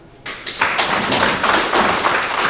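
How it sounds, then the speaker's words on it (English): Audience at an African expats empowerment forum bursting into sustained clapping for Mr. Emeka, starting with a few taps and swelling into dense, steady applause close by. "I want all of us to clap for Mr. Emeka."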